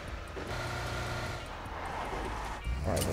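Car engine in PUBG Mobile, a steady low drone running throughout with a louder surge near the end, no talk over it.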